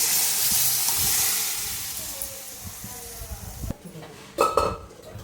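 Red leafy vegetables fry in a pan with spices and garam masala, giving a steady, close sizzle and hiss. Clattering stirring strokes come near the end.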